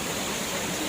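Steady, dense roar of a forest waterfall, close and continuous with no break, filling the whole short stretch.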